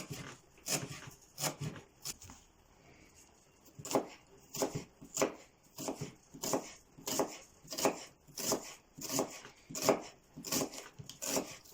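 For Tajik cut noodles, a knife chops rolled dough finely, giving a long run of sharp, close, regular chops after a few scattered opening strikes, with no talk over them.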